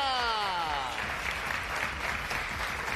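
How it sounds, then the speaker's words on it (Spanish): A live television studio audience applauds steadily and loudly throughout, with a voice briefly heard over the clapping at the start. "los agarrás sin fuerza, María Rosa, porque estuvieron aplaudiendo mucho"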